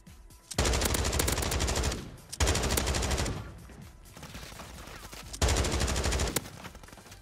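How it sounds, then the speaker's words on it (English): Video game gunfire in three loud, sustained bursts of rapid automatic fire, each lasting over a second, separated by quieter gaps holding distant shots. "He's shooting through a brick wall."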